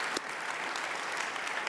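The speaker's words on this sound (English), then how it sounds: "Clapping's good." A church congregation claps together at a Sunday service, a dense, steady patter of many hands held at an even level for a short stretch, with no voices standing out.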